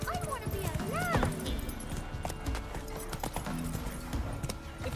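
Horse hooves clip-clop steadily in a fantasy role-playing game while a character speaks over them, with game music in the background and a brief whinny-like sound early on.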